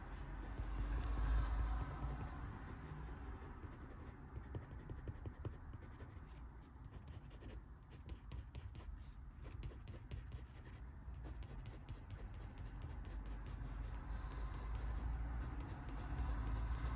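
A cold grey colored pencil pressed hard while shading fur on paper in an adult coloring book, a continuous soft scratchy rubbing with quick repeated strokes, quiet and close.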